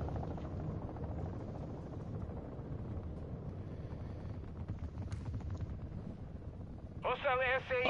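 A chopper gunner helicopter in Modern Warfare III rumbles low and steady in the background of game audio, with scattered gunfire-like bursts and a rising electronic tone near the end.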